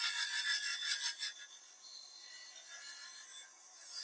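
A woodturning tool scrapes across spinning wood on a lathe to true it up and remove tear-out: a bright, rough shearing rasp that is loud for about a second and a half, then drops to a softer, steady hiss.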